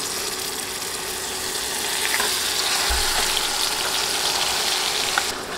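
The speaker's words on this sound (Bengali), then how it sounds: "পেঁয়াজ বাদামি হয়ে এলে এখন ম্যারিনেট করে নেওয়া মাংসটা দিয়ে দিব" Marinated chicken hits browned onions in a hot pan and sizzles steadily in a dense, even hiss with light scraping, close and continuous, with no talking.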